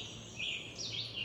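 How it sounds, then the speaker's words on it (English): Birds call in short, high chirping bursts at a rocky cliff edge in Macedonia Brook State Park, fairly close and alone over a faint outdoor background. "I think the birds are giving us a warning."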